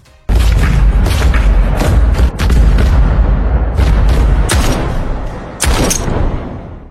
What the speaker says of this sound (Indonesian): mereka berdua pun saling tembak dan tewas